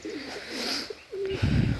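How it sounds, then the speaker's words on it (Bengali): Bombay pigeons coo nearby in low, rolling calls, one soft burble followed by a longer throaty coo, with some rustling at the end. "সুন্দর একজোড়া কবুতর অনেক মারাত্মকভাবে ঘুরে ঘুরে ডাকে"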